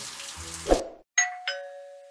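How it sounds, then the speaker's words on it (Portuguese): A two-tone ding-dong doorbell chimes indoors, the clear tones ringing out and decaying after a brief splashy sound at the start. "Atende a campainha, meu filho!"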